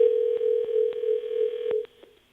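A phone line rings during a live radio call-in show: one steady tone held for almost two seconds with brief clicks across it, then it drops to a faint, quieter tail.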